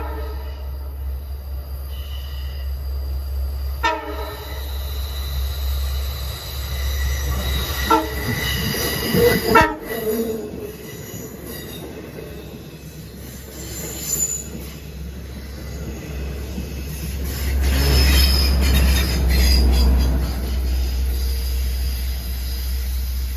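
LIRR Port Jefferson Branch westbound train passing Hulse Road in winter, loud and close, with rumbling wheels, squealing flanges and a horn blast, the roar swelling again near the end.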